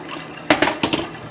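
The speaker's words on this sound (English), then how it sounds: "So, once they've soaked for 12 hours, you pour them into your strainer again." Soaked lentils and their soaking water poured into a strainer, giving a short splashing rush that starts abruptly and comes in a few uneven close bursts.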